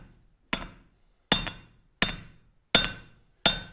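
Five crisp, ringing hammer strikes land on hot metal over an anvil in a blacksmith's forge, loud and close, falling in a steady beat with short metallic decays between them.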